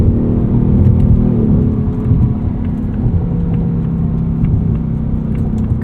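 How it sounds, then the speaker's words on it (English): A 2024 Ford Mustang GT Premium coupe's 5.0-liter V8 with 10-speed automatic drones loud and steady from inside the cabin, a continuous deep rumble with no talk over it. "This 5-liter just sounds fantastic, especially in the higher revs."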